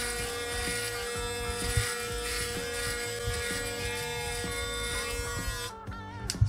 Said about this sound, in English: I'm going to do the same thing on this side, counting 10, and then I'll shave my whole face